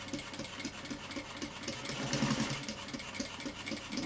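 A sewing machine stitches a mini backpack, running with a steady rapid mechanical chatter that stays moderately loud and close throughout, with no talking.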